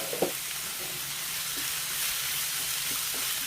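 Onions and soya chunks sautéing in a pan give a steady, close sizzle throughout, with a brief stirring knock near the start.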